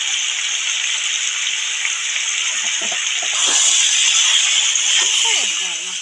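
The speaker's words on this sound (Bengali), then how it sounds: "জল দিয়ে দিচ্ছি পরিমাণ মতো জল দিয়ে" Water is poured into a pan of vegetables cooking with chili and cumin powder, giving a loud, continuous rushing hiss that swells midway, with brief voices under it near the end.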